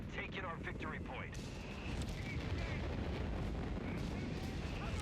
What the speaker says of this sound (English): Artillery hitting that sector